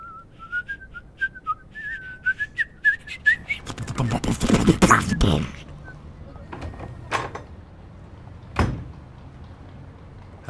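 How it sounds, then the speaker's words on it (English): A tuneful human whistle from a character in The 39 Steps game, wavering melodically through the first few seconds, then giving way to footsteps and door-like clatter. "I went whistling downstairs"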